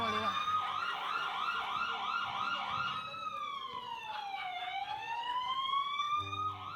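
A loud wailing siren, first pulsing rapidly then sweeping slowly up and down, steady and close throughout.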